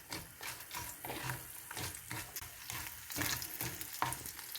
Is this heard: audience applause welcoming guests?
no